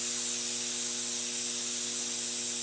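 Air escaping from a soapy trailer tire bead as the pressure is let down, a steady close hiss that runs unbroken and alone, with a low hum underneath.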